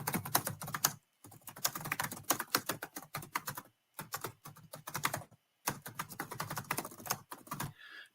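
Fingers type rapidly on a computer keyboard in dense, clicking bursts, close and clear. The typing stops briefly for a few short pauses before resuming.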